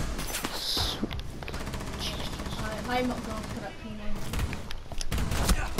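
Rapid gunfire bursts from the Rainbow Six Siege video game crackle throughout, sharp and fairly close, mixed under steady conversation between several players.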